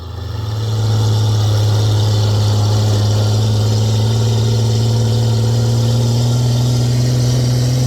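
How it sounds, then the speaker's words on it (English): A roughly seventy-year-old military truck engine idles steadily and loudly close by, a deep constant rumble with a low hum that holds unchanged throughout, with no talk over it. "you can't rev too fast because it clogs the motor"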